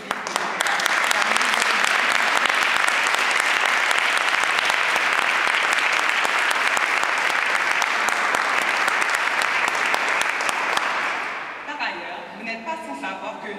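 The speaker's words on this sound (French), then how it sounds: "je vous demande de vous joindre à moi pour une belle main d'applaudissement à la ville" A large audience applauds steadily at Montreal City Hall during a Creole month launch evening, dense clapping lasting about eleven seconds before fading out.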